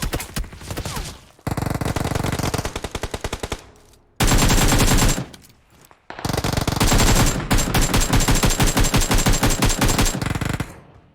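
Rapid automatic bursts from a UMP submachine gun in PUBG Mobile, loud and close, in long sustained strings broken by short pauses, with no talk over it.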